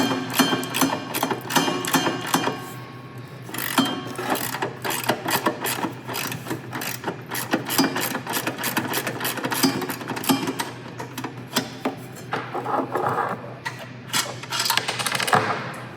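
A 7/16 socket on a flex head ratchet turns a bolt during a CB6 conversion kit install, producing a close, fast stream of rapid clicking bursts with brief pauses between runs.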